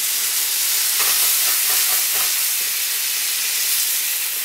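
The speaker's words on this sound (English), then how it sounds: "Get our wine in there. What we're going to do with that is let the alcohol cook off." Marsala wine added to a hot pan while cooking chicken Marsala sizzles with a loud, steady hiss throughout, plus a few faint clinks of stirring.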